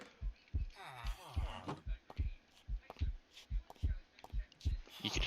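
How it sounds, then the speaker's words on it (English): A heartbeat sound effect from a modded Minecraft game thumps steadily in deep paired beats, repeating about every half second, with a voice talking over it at times. "You can hear the heartbeat,"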